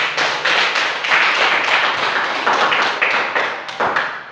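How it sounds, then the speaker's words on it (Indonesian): Classroom audience clapping hands together after a group presentation on plant conservation, a steady burst of dense applause with audible individual claps, fairly close and loud throughout. "Ya, tepuk tangan dulu."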